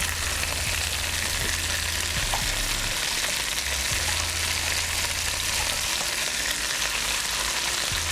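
Onions, pepper and celery fry in rendered bacon fat with a dense, steady sizzle that fills the whole stretch, with a few low stirring knocks underneath and no voices.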